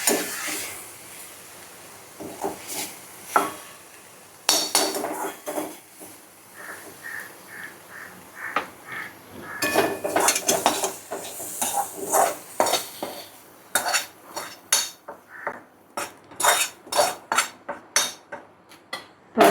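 Raw banana slices are washed and shifted into another vessel: bursts of splashing and handling alternate with short pauses, then a run of sharp metal clinks and knocks from the pots, close by with no talking.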